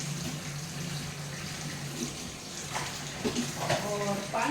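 Water is poured from a glass into a kadhai on the stove for steaming veg momos, a steady moderate splashing stream with a few light metallic clinks toward the end.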